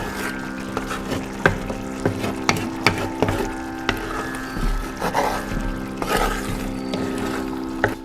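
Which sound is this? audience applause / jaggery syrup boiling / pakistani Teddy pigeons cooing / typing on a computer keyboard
jaggery syrup boiling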